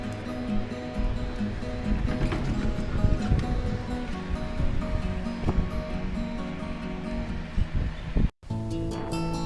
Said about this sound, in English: Another trip to the beach. This time we went to Longport.